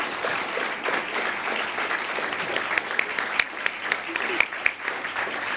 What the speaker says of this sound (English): can I have a big round of applause, please?